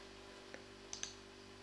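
A few faint, sparse key clicks from a computer keyboard over a steady electrical hum, with no voices.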